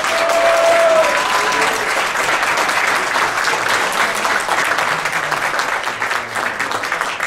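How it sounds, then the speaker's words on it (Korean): Concert crowd at a celebratory performance gives a big sustained round of applause, loud and dense for several seconds, with a brief voice or tone audible early on. "다시 한번 큰 박수 내주시고 부탁합니다."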